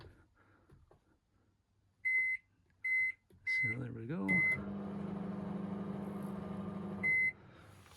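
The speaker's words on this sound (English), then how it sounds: "So that's your microwave." A microwave oven aboard a Bayliner 245 boat gives off several sharp electronic beeps, then a steady humming drone as it runs, with a few spoken words heard briefly.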